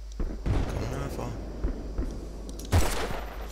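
Steyr AUG rifle fire in Battlefield Bad Company 2, several sharp close bursts of shots with a heavy blast near the end, with a voice talking in between.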